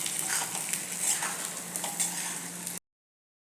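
Brinjal sautés in oil with a continuous close sizzle and soft stirring scrapes, ending abruptly in silence.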